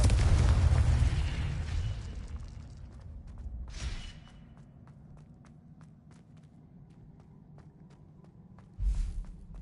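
A fiery Confringo spell blast in Hogwarts Legacy during Professor Rackham's trial: a loud booming burst that rumbles and fades, followed by a smaller pop midway and another heavy thump near the end.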